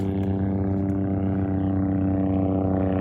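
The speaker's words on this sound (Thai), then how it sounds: "เสียงเรือ" A boat engine drones steadily nearby at the seashore, a constant humming throb with a strong low tone and no pauses.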